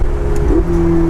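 A rented Ferrari supercar's engine blips and revs up briefly, a loud close roar with a quick pitch rise settling into a steady tone.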